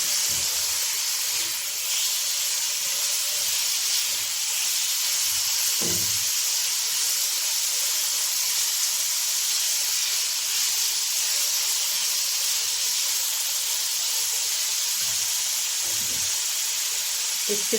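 Carrots hit chicken frying in a pan with a loud, steady sizzle and hiss that carries on throughout, with a few faint thumps of stirring underneath.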